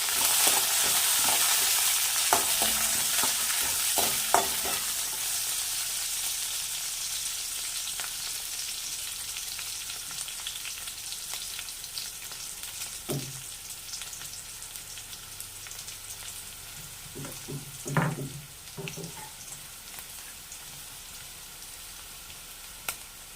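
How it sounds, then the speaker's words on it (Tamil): Curry leaves, onion and other aromatics sautéing in a pan, a soft steady sizzle with occasional spatula scrapes and clinks, close and fairly quiet with no talking. "கொஞ்சம் கருவேப்பிலை, மூணையும் நல்லா வதக்கி விட்டுக்கலாம்."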